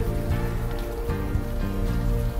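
Rain falling in the video game Unavowed, a dense steady patter of drops over a low sustained musical drone, continuous and fairly loud with no talk.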